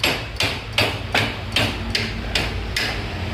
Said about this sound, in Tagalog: Pukpok lang.